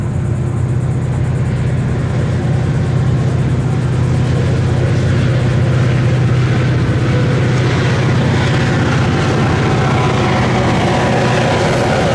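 A Florida East Coast Railway train hauled by EMD diesel locomotives gives a steady, loud, droning engine rumble with a low hum and constant rolling noise throughout, with no voices.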